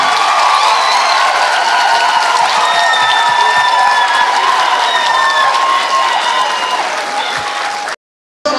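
An audience applauds Haitian president Michel Martelly with steady, loud, sustained clapping and scattered whistles filling the room, then cuts off abruptly near the end.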